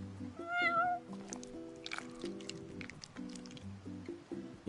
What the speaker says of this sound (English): Meow. You're one spoiled cat.